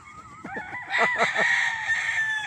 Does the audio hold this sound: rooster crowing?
yes